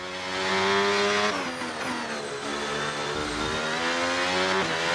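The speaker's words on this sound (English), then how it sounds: "Normally here I downshift to 6th, maintain the engine revs high." Red Bull RB22 Formula 1 car in F1 26 at the Chinese Grand Prix, engine holding high revs through a downshift to sixth; a loud, steady harmonic whine shifts pitch partway through with no talk.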